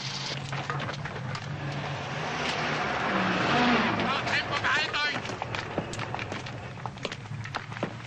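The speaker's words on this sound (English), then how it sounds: "Corporal! Get that truck out of here!" A military truck's engine revs and pulls away across a town square, loud and close, with shouted voices over it.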